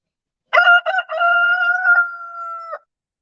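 A rooster lets out one loud, close crow, a few choppy opening notes and then a long sustained call ending abruptly, with nothing else around it.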